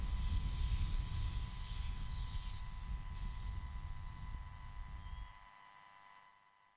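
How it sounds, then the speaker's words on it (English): A SpaceX Falcon 9 rocket carrying 52 satellites climbs through supersonic flight during launch. Its engines come through as a distant, steady low rumble that fades away in the last moments. "Falcon 9 is now traveling faster than the speed of sound."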